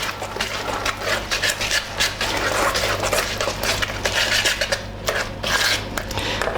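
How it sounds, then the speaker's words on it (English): Cornbread batter being whisked quickly by hand in a bowl, a brisk, continuous scraping and rasping rhythm, close and fairly loud, with no talking. "Mix it all together quickly. I like to use a whisk for this."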